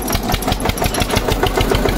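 Eicher 241 tractor engine running steadily while driving, a loud, even diesel chug with a fast regular firing pulse throughout.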